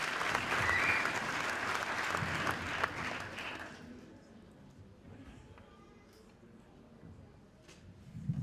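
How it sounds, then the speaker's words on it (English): An audience at the CSUS African Peace Awards 2014 applauds for Dr. Uwazi, clapping briskly for about four seconds before it quickly dies away into quiet room murmur. "So round of applause for Dr."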